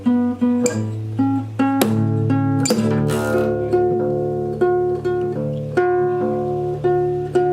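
Acoustic guitar playing a song, strummed chords punctuated by sharp percussive string slaps landing in a steady rhythm, close and clear with no talking.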